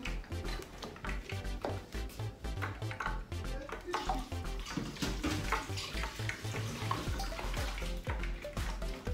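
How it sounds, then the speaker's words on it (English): Tap water runs into a kitchen sink while hands are washed during cooking, a continuous close splashing with some clinks of dishes, and faint voices underneath. "just wash my hand first."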